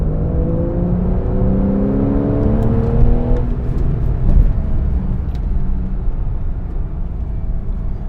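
A Porsche 911 (991) Carrera 4S holds a steady engine drone with a rising, shifting tone as it drives through a turn, heard from inside, with no talk.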